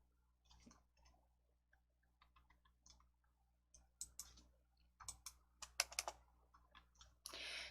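Computer mouse and keyboard clicks in a quiet room, scattered soft clicks early that grow into a denser, louder burst of taps toward the end, heard close with no talking.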